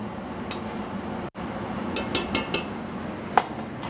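A spoon clinks against a pan while a cooked shrimp dish with butter and parsley is stirred. There are several light metallic taps, close up, over a soft kitchen background.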